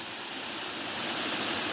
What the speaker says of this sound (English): You know how I like a waterfall, guys. I love a waterfall, me.